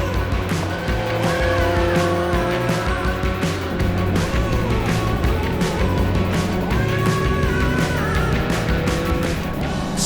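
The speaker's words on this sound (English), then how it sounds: "A throttle issue before the start. Engine revving uncontrollably." MG race car at the start of a 2025 MG Cockshoot Cup race with a throttle fault, its engine roaring loudly and continuously, revving uncontrollably amid dense racing noise.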